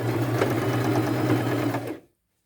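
A close sewing machine stitches triangle patches into a pair of jean shorts, giving a steady, loud whirring run of about two seconds that cuts off abruptly into silence.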